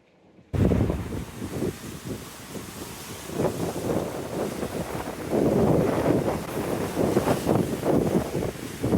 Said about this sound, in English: There is about 20 knots of wind coming from the east.